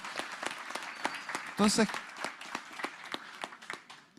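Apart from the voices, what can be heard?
audience applause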